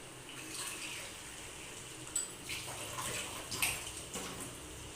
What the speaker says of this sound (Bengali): এই পরিমাণ জল দিয়ে দিলাম